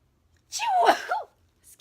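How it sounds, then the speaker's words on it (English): A single sneeze bursts out near the microphone, a rising-falling voiced cry lasting under a second, followed by a brief quiet gap and the start of another short vocal sound. "I feel a sneeze coming on."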